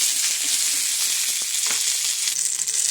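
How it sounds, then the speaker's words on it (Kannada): Mustard seeds, cumin, curry leaves and chopped green chillies frying in hot oil in a pan, giving a loud, continuous sizzle with small pops and crackles scattered through it. "ಈಗ ಚೆನ್ನಾಗಿ ಫ್ರೈ ಆಗಿದೆ."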